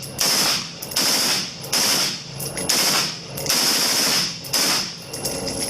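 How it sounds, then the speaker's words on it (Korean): A Dasan CAR816 special-operations rifle fires on full automatic in loud, close, sustained bursts, about six rapid rattling strings of shots separated by brief pauses, with no talking. "자, 연발로 놓고, 자, 이제 연발로 한번 당겨볼까요?"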